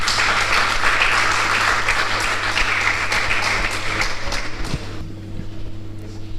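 An audience applauds the entrance of Madame Titiane Mwanda at a youth forum anniversary event, steady dense clapping that fills the room and then thins and fades toward the end.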